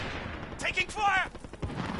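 Gunfire in a multiplayer shooter video game, a few sharp cracks and a short burst of shots with a brief whining ricochet-like tone, moderately loud amid background game noise.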